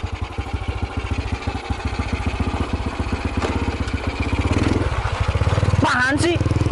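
A Honda C70 motorcycle engine runs close by with a rapid, regular putter that grows slightly louder, and a voice briefly joins near the end.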